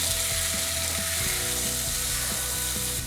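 Potatoes sizzle and fry in a hot pan coated with an onion, spice and garlic mixture, a steady close crackle throughout with light stirring knocks and scrapes underneath.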